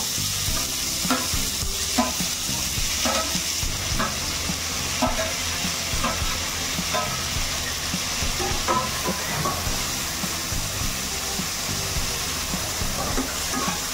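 Chopped onions sizzle steadily in a pan for paneer masala fry, with repeated close scrapes and knocks of a spatula stirring them; no one talks.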